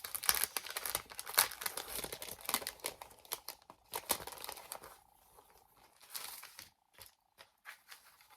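A crinkly plastic package of paper flower embellishments is opened and handled up close, with dense crackling and rustling that thins into sparse crinkles toward the end.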